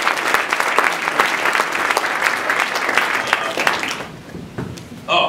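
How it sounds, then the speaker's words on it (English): Audience applause at a tech meetup in Hoboken, New Jersey, honouring three startups: dense, loud clapping from a seated crowd that carries steadily for about four seconds, then drops away, with a brief burst of noise at the end. "How about a quick round of applause for all three startups?"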